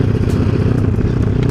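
A motorcycle engine with a mini carburetor on a helicopter-style tune runs close and loud, a steady, rough, choppy idle with rapid clattering pulses and no talking.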